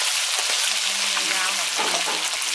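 Pork offal, including intestine, liver and stomach, frying in hot oil, giving a dense, loud, continuous hiss and crackle with no pause.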